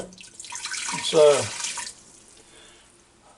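Hot water poured into the inner pot of an Instant Pot Duo Crisp air fryer pressure cooker, a short splashing pour lasting under two seconds, close and fairly loud, with a brief spoken word.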